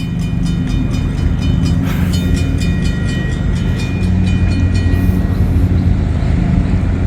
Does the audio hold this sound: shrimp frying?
no